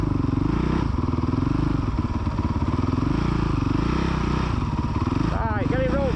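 A kid's motocross bike on the Astley MX main track, its engine droning and revving steadily throughout with rising and falling pitch, while a coach's voice talks over it.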